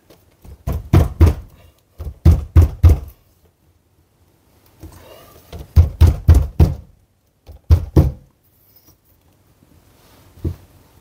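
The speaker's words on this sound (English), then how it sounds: "So we just want to take our putty knife, want to give it a firm tap" A putty knife tapped firmly in behind the bead of a uPVC door panel, sharp knocks in quick clusters of two to four, loud and close, separated by short silences.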